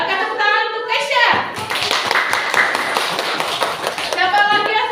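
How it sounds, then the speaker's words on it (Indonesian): Classroom applause for a student during a lesson on positive school culture, a burst of many hands clapping together with children's voices and a teacher speaking over the noise. "tepuk tangan untuk Keisha"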